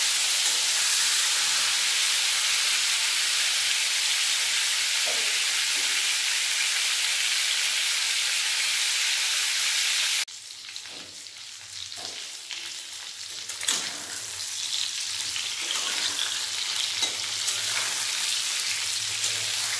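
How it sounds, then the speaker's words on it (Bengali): Slices of pointed gourd frying in hot oil, a dense, continuous sizzle that drops sharply partway through and settles into a softer crackle with occasional pops, close and alone. "তেল গরম হয়ে গেছে ভালোভাবে, পটলগুলো তেলের মধ্যে দিয়ে দেবো। পটলগুলো হালকা করে ভেজে নেব।"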